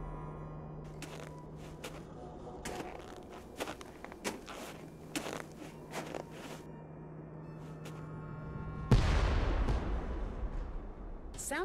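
A sudden booming explosion bursts out near the end, leaving a rumbling roar, after a stretch of quiet ambience with scattered soft thuds, in the game Nancy Drew: White Wolf of Icicle Creek.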